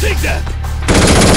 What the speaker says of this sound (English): Please, no more friendly fire, mister.